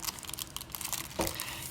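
A glassine bag being handled close up, producing soft, continuous crinkling and rustling in short irregular bursts, with a slightly louder crinkle near the end and no talking.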